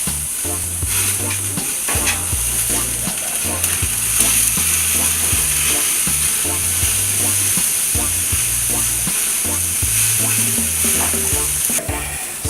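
Skirt steak cooking on high heat gives a loud, continuous sizzle that holds steady for the whole stretch, with a faint low hum running beneath it.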